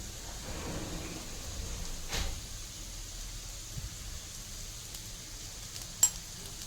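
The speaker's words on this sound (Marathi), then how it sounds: "आता त्याला छान हलवून घ्यायचं आहे" Elephant foot yam fries coated in masala with black pepper and red chilli are stirred in a pan, giving a faint, low hiss of sizzling with a couple of soft scrapes and one brief clink, close by and without talk.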